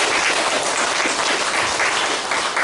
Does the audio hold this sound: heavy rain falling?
no